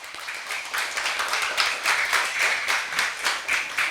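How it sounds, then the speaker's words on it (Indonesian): Children at an Islamic school event in Kaliwadas clap together on request, a lively rhythmic round of applause with steady repeated claps filling the room. "Saya boleh minta tepuk tangannya dong untuk MD At-Tahiriyah."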